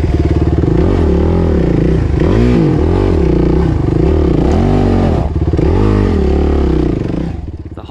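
Suzuki RMX 450Z enduro motorcycle picking its way over rocks, engine loud and close with rapid rises and falls in revs as the throttle is blipped repeatedly, clatter mixed in, tailing off at the end.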